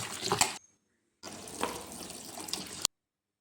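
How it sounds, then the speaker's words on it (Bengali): Vegetables for a pumpkin, potato and eggplant curry rinsed under a running kitchen tap: a short burst of splashing water, a pause of silence, then a longer steady stream with small splashes as the pieces are turned under it. "এবারে সবজিগুলোকে ধুয়ে নিব ভালো করে।"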